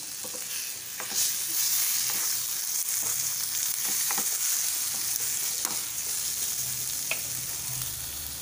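Tomato, garlic and ginger roasting in a pan for Kolhapuri misal, a constant close sizzle broken by irregular sharp scrapes and taps of a stirring spoon, with no talk.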